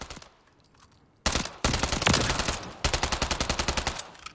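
Rapid bursts of UMP45 gunfire in Call of Duty Modern Warfare III, loud and close, with a long sustained volley followed by a string of evenly spaced shots.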